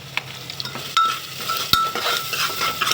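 Curry leaves, tomato and onion with turmeric, salt and spice mix fry in hot oil for a Maharashtrian masale bhat, a steady close sizzle broken by the clink and scrape of a stirring spoon against the pan.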